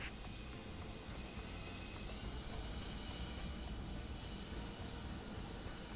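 Airliner engines spool up during start in Microsoft Flight Simulator 2020 at Ushuaia, Argentina, a steady broadband roar with a rising whine that holds loud and constant throughout.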